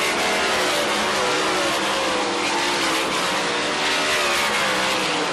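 Race cars roar around the track during a heat race, a dense, steady wall of engine noise with no break, loud and continuous throughout.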